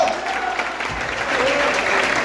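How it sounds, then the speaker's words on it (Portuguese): A church congregation claps in a brief, dense burst of applause that holds steady, with indistinct voices blended in. "Você pode aplaudir ao Senhor?"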